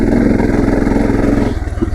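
An XT250 or DR650 dual-sport motorcycle ploughs through deep sand, its engine droning loud and close with a steady throbbing pulse that drops into slower, choppier revs near the end.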